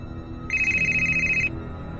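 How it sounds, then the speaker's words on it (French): A single burst of an electronic telephone ring sounds for about a second, a bright trilling tone close and clear over a quiet background. "Karine est en train de prendre le petit déjeuner avec sa compagne lorsque le téléphone sonne."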